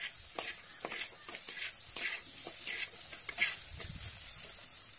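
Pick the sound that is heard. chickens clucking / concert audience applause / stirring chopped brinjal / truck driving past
stirring chopped brinjal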